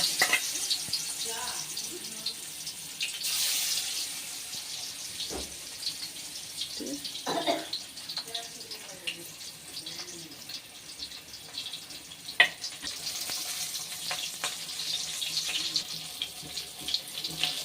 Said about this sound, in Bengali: এবার সবার প্রথমে লেজা দুটোকে ভেজে নেব।